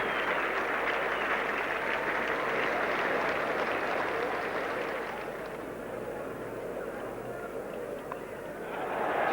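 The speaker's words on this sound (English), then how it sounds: "he's getting a very good hand from this big crowd" A big crowd at The Oval applauds a batsman during the 1975 Australia v West Indies World Cup one-day cricket match, with sustained, dense clapping that dips slightly midway and swells again at the end.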